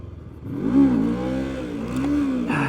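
A Kove Cobra 321R motorcycle engine revs hard in first gear for a wheelie, its pitch rising and dipping as the throttle is worked, with a brief clatter near the end.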